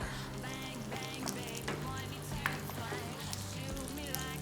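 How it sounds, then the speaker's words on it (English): Chili peppers and garlic fry in a pan for a Mexican mole sauce, giving a steady close-up sizzle with crackling pops throughout. "I'm going to fry the chili peppers"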